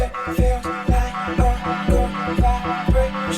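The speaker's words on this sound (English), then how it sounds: "this is the beginning with the kick muffled." An electronic track opening with a dull, muffled kick thumping steadily about twice a second under soft sustained synth chords.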